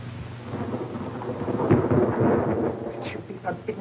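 A thunderstorm with rain on a stormy night in a 1934 drama, heavy rain hissing steadily while a deep thunder roll swells near the middle and fades, with no voices over it.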